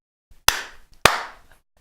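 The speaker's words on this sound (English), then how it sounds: "Clap coming up. Okay, clap." Two sharp single hand claps, about half a second apart, ring out with short room echo in an otherwise quiet space, marking the start of a recording.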